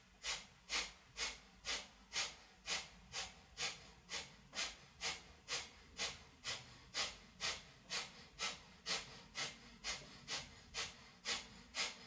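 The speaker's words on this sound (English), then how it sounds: "just go back to normal deep breathing" Rhythmic deep breathing during a healing-circle exercise, about two dozen quick, even forceful breaths in a steady pulse, close and fairly quiet with no talking.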